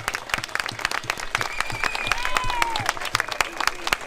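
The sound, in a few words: applause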